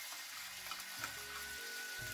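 Gravy for matar paneer bubbling and sizzling steadily in a pan over a village cooking fire, a continuous close frying hiss with no talking.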